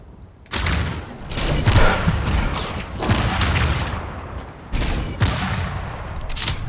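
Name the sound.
gunshots in the video game Tribes 3: Rivals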